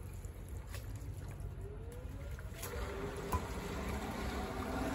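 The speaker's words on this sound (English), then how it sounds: "Once it's in backwash, we're going to turn the filter back on. We'll let it start to run." Pool sand filter running on backwash, a low steady rumble of pump and rushing water at moderate distance, faint and continuous with a slight rise partway through.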